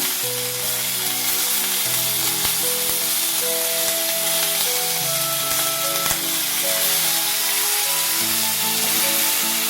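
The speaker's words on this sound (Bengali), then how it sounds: "এবার আমি কেটে রাখা সমস্ত টমেটো, পেঁয়াজ, রসুনগুলো দিয়ে দিচ্ছি ভাজা ভাজা হওয়ার জন্য" Chopped tomatoes, onions and garlic fry in a pan for an egg curry, giving a continuous hissing sizzle beneath steady background music.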